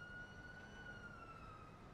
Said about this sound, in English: that's EMS right there. You hear that siren?